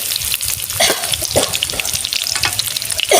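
Pieces of rohu and bony fish fry hard in a pan with turmeric, Kashmiri chili and salt, a loud continuous sizzle with spitting crackles and a few stirring scrapes close by.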